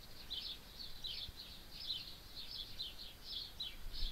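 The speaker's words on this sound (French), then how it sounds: "diversité de chants d'oiseaux" Small birds chirp in faint, quick, repeated bursts at a distance, their high notes recurring steadily over a soft background hiss.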